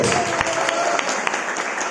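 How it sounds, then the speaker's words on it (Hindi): A congregation at a Baptist church service claps loudly together, a short burst of dense applause with a voice faintly underneath. "समझ में आने वाला ताली बजाओ जोर से"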